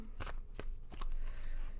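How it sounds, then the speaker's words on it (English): A tarot card deck being shuffled by hand, giving several quick, crisp riffling bursts close up in a quiet room. "Give it a good shuffle."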